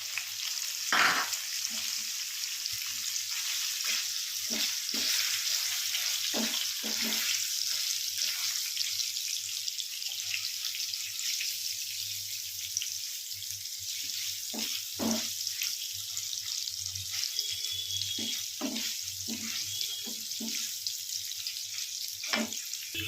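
Paneer cubes fry in hot oil in a pan, a steady dense sizzle running throughout with occasional scraping stirs and soft clinks, no voices.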